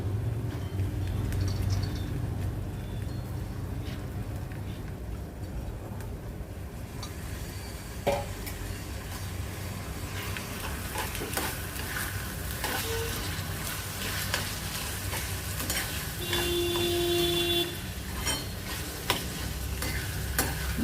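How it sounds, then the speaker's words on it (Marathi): Soaked masoor lentils fry in a pan with a steady close sizzle while being stirred, the sizzle growing louder after several seconds, with occasional scrapes and clinks of the spoon against the pan. "चांगला आपण मसुरा आता परतून घेऊया."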